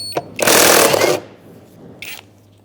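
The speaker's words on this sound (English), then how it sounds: "We're also going to transfer over this outlet using a 22 millimeter socket." Socket wrench with a 22 mm socket loosening an outlet fitting on the valve cover of a 2002-2006 Toyota Camry: a loud burst of rapid ratcheting, then a shorter, fainter ratchet burst after a pause.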